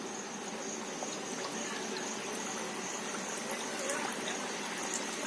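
Nimki dough pieces fry in medium-hot oil in a kadhai, giving a steady, close, bubbling sizzle that holds evenly throughout.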